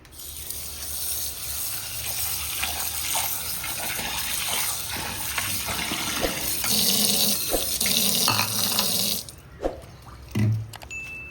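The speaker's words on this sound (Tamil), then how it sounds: "ஒரு நாலு தண்ணி ஊற்றி அலசிட்டு அப்புறம் வறுத்து தான் பொடி பண்ணணும்" Water runs and splashes steadily in a basin as dried fish is swished and rinsed, with sloshing and a few clunks near the end.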